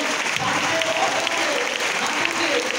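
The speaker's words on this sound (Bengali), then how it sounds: "তো নিজেদের জন্য একটা জোরদার হাততালি।" An audience at a training session in a hall gives a dense, steady round of clapping that stays loud and even from start to finish.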